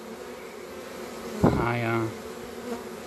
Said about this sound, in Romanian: vine câte o albină care bate puternic din aripi